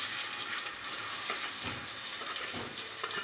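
Onions fry in oil inside a pressure cooker on a stove, giving a steady, close, broadband sizzle with faint stirring movements and no speech.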